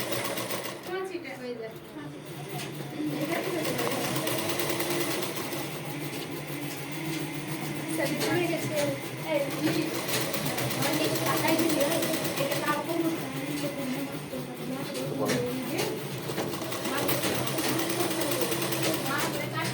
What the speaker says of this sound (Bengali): কিভাবে ধরবে দেখো এইভাবে হ্যাঁ সেলাই করে নিচ্ছি